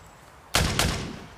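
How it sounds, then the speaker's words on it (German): Two sharp gunshots ring out in quick succession after a quiet moment during a violent family incident attended by police, loud and close with a short echoing tail. "Das waren Schüsse."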